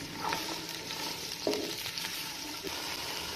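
Three medium onions dropped into a cup of hot cooking oil for chicken biryani, a loud continuous sizzle and crackle with a few stirring bumps, close and alone.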